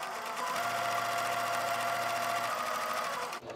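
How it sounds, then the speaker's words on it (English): A sewing machine whirs steadily at high speed, its needle chattering in a rapid even rhythm, up close, before slowing to a stop. "I'm just gonna put them right through my sewing machine"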